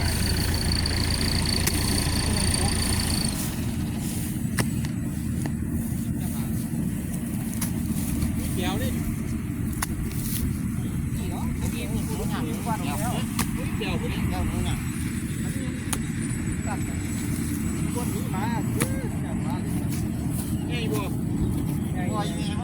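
A tractor engine runs steadily during a rice harvest, a constant low mechanical drone that continues throughout while people talk loudly over it outdoors.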